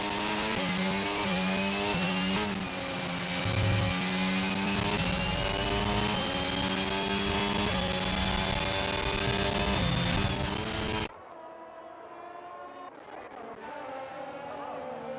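Race cars rev and drone at Spa in a racing video game, several engines layered into a continuous loud roar with rising pitch, under commentary, dropping sharply to a quieter engine hum near the end.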